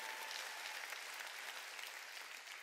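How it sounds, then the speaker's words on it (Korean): A church congregation at a Wednesday worship service claps together to give glory to God, a faint but steady wash of many hands applauding in a large space. "박수로 하나님께 영광 돌려야죠"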